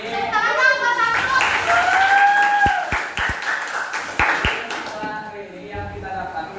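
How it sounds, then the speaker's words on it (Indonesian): Classroom students clapping hands for a classmate, scattered claps in an uneven rhythm under speech and chatter. "Tepuk tangan dong buat satu."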